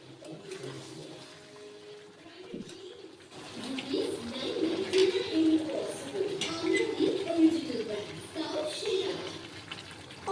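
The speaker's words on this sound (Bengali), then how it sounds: "এখানে গরম জলটা দিয়ে দিলাম তারপরে ভালো করে নেড়ে এটাকে গ্যাসটা কমিয়ে দিয়ে বসিয়ে রাখবো" Hot water is poured into a pot of mutton and potatoes as a rushing, gurgling pour that starts about three seconds in and keeps going, close and fairly loud, with a quieter lead-in before it.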